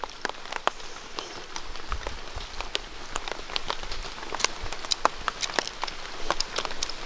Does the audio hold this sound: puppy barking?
no